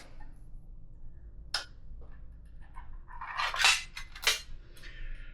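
A can of pineapple being opened in a kitchen: a sharp metallic click, then a cluster of crisp scraping and clinking metal sounds, close and isolated.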